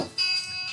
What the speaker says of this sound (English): Oh, it is 7 p.m. That is my alarm going off.